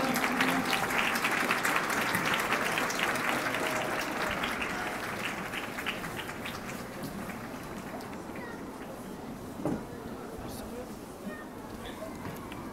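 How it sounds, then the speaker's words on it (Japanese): A large crowd at a baseball stadium applauding continuously, loud at first and gradually fading, with a voice over a loudspeaker briefly audible near the end. "皆さん拍手を送りください"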